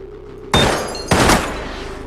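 A turret firing in a cyberpunk shooter game, two loud sharp bursts about half a second apart, each tailing off quickly into a low background hum.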